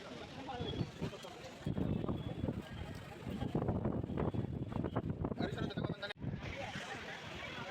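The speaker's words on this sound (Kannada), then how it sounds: "ತುಂಬ ಗಾಳಿ ಪಡ್ತಾನು ಬರ್ತಾ ಇದೆ" Strong, cold wind roars and buffets the microphone in loud, continuous gusts on Nandi Hills, India, with muffled voices faintly underneath.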